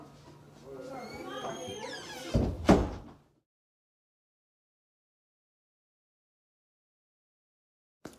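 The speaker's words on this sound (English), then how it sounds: "Shut the door." A door shuts with a sharp thud and rattle right after a person talks, followed by silence and a faint click at the end.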